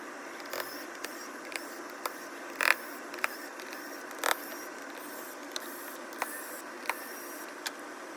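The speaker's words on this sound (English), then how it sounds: "you need to remove all of the screws from the backing plate cover here" Small screws are backed out of the backing plate of an Acer C733 Chromebook: sparse, close ticks and light clicks at irregular intervals, with a couple of slightly louder scraping clicks, over a quiet background.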